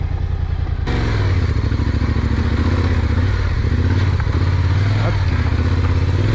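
Yamaha Tenere 700 motorcycle engine held at a steady idle-to-rev roar, loud and close throughout, with a brief spoken interjection near the start.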